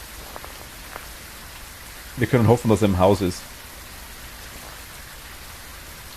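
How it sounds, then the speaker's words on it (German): Steady rain hiss falls throughout a stormy map in the ghost-hunting game Phasmophobia, a soft broadband wash that continues on its own, with someone talking briefly in German over it midway. "Also mit Regen und Gewitter."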